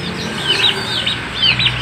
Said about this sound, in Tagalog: Ito naman, mga manok na dito.